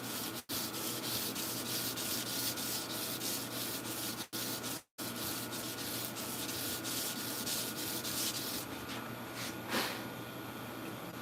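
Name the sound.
hand sanding a sword blade with sandpaper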